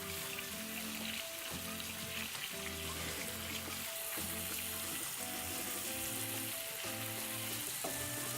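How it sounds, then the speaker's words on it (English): A roux of flour and bacon drippings, with shrimp juices, sizzling in a pan, a steady crackling fry close up under a repeating background music loop. "Taking all of our drippings, adding some flour into it just to thicken it"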